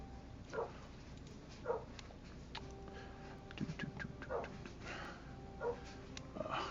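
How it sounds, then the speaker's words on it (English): A dog barks and whimpers somewhere off in the distance, short faint yelps repeating every second or so over a quiet background. "I've got to go check and see why my dog keeps barking."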